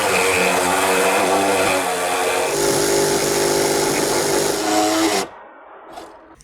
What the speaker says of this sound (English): The saw will fight with you a whole lot more if you try to do both at the same time.